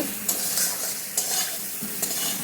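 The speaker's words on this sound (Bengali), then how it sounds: "ডিমগুলিকে ভালো করে ভেজে তুলে নিচ্ছি।" Eggs fry with spices in a pan, giving a loud, constant sizzle broken by three bright scraping strokes as they are stirred.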